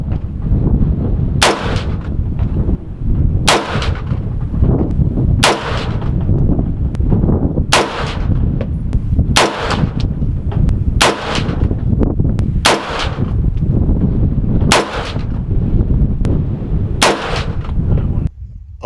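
Rifle shots at a long range shooting session ring out one at a time, about eight loud sharp cracks spaced a couple of seconds apart over a steady windy background roar.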